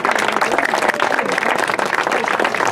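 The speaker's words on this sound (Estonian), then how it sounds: "Aplaus, vaprad naised." Loud, steady applause from a crowd honoring the women finishers at the 2016 Haapsalu triathlon awards, a dense unbroken wash of clapping with some voices mixed in.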